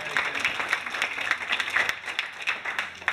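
An audience claps for the second- and third-place teams at a school design-technology car challenge, with a brisk, steady round of applause from a room full of people that lasts about three seconds.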